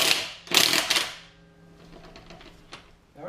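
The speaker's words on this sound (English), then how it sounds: "we're just going to loosen up the bolts or the lug nuts on the front wheel on the passenger side" Lug nuts being loosened on the front passenger wheel of a Jeep in a home garage: two loud bursts of ratcheting, clicking metal close by, then fainter rattling mechanical clicks and a ringing tail.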